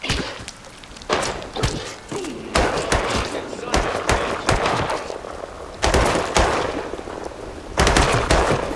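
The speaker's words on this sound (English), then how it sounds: "The more I shoot, the more I attract the enemies." Player's weapon firing in the roguelite action RPG Sancticide, loud bursts of rapid gunshots in several clusters with thuds between, and someone talking over parts of it.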